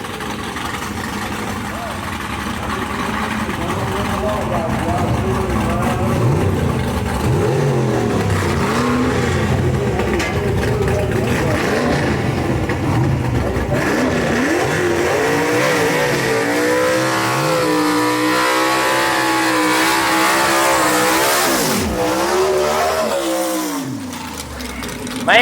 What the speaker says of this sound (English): them Mickey Thompsons is talking right there on the back of that 49 Studebaker truck